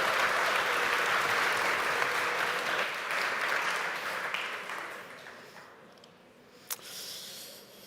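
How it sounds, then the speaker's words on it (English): Audience applause in a conference hall at App.js Conf 2025, a dense, loud clatter of many hands that fades out over the last seconds, ending with a single sharp clap near the close. "can we give a massive round of applause to Evan?"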